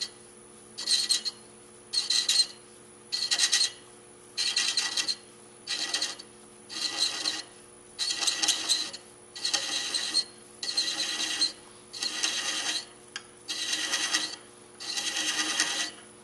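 A thread chaser cuts a thread into wood on a lathe, giving repeated rasping, scraping passes in about a dozen even bursts. Brief pauses separate the bursts, and a steady lathe hum runs underneath.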